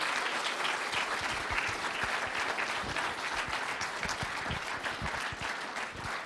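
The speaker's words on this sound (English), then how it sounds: "give all the teams, please, a big round of applause for today" Audience at the Young Enterprise Devon County Finals applauding the competing teams, a close, full burst of steady clapping that holds at an even level for several seconds before easing slightly at the end.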